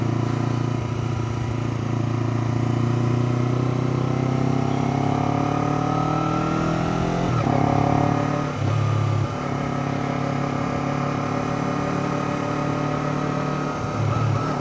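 A Ferrari's engine passes during a motorcycle ride at Windmill Park in Nakatajimacho, Hamamatsu, with a strong, steady harmonic engine drone whose pitch slowly climbs, then shifts abruptly twice near the end, loud and close with no talking.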